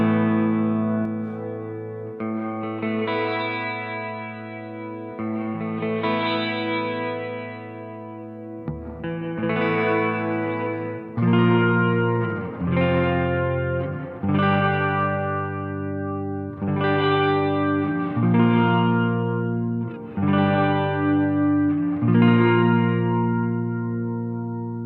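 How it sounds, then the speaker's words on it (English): Electric guitar chords ring out through the chamber reverb setting of a DemonFX reverb and delay workstation pedal, strummed every couple of seconds with a bright, shimmering high-end tail and lush sustain, no voice. "Next we've got a chamber reverb where the morph controls that high-end sparkly sound."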